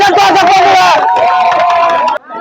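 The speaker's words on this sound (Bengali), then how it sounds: "দাদু জন্য হাততালি" Applause and cheering from a small crowd for a grandfather at a balloon-popping game event, dense clapping and voices for about two seconds before cutting off sharply.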